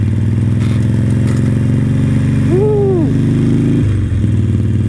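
Motorcycle on a test ride, close and loud with a steady low engine drone and a rising then falling tonal whine in the middle, the rumble dipping near the end.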